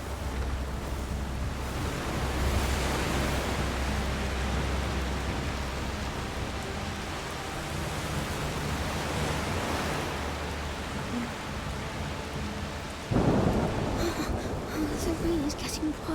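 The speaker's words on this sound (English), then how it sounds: "It's just a storm." Heavy rain and storm wind from a rainy scene in the video game A Plague Tale: Requiem, a steady broadband wash of downpour under a distant rumble, swelling briefly near the end.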